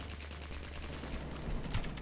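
Rapid video-game gunfire, a fast rattling burst of repeated shots held at low level against steady background noise.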